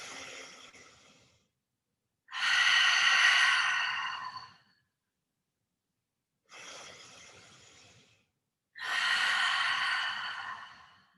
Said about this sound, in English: Inhale through your nose. Exhale, open mouth.